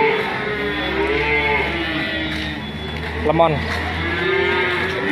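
Large Limousin cattle at a livestock market low out in a couple of loud, drawn-out moos close by, with someone talking throughout and a busy crowd murmur behind.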